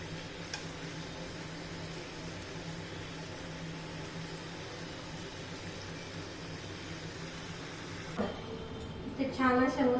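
Karanji pastries stuffed with fresh coconut filling fry in hot oil, giving a steady, even sizzling hiss that runs throughout, with a few brief clinks or voice-like sounds near the end.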